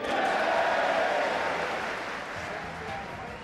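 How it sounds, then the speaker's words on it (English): A snooker crowd at Haywards Heath cheers and applauds in a sustained wash of noise, loud at first and easing off slightly, with a commentator's voice over it. "listen to the cheer from the Haywards Heath crowd"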